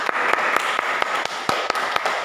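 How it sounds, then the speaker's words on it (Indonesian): A small classroom group gives a brief round of applause during a peer teaching class, with sparse, uneven claps over a steady hiss. "berikan aplaus untuk kita semuanya"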